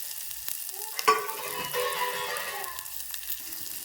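Chopped onions frying in hot oil in a pan for a village-style brinjal bharta, a steady close sizzle with a few clinks from stirring partway through, and no talk.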